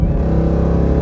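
Jeep Trackhawk engine and exhaust rumbling loud and close, a dense, steady low growl with throaty harmonics held throughout, no voices.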